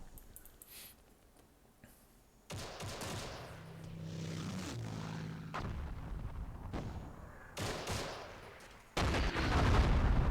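Airstrike explosions in the Myth II Soulblighter strategy game, with heavy booming blasts and crackling bursts. They start in the third second, recur in waves and peak loud near the end, with no talk.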